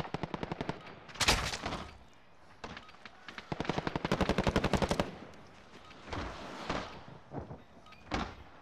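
Gunfire in a shooter video game: loud rapid automatic bursts, several long strings of shots separated by short pauses and a few single cracks, close and dominant with no talk.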